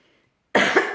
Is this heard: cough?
yes